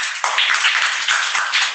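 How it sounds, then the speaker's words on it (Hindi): A classroom of students clapping together, a brisk burst of overlapping claps at close range that holds steady and carries no speech. "ताली बजाइए"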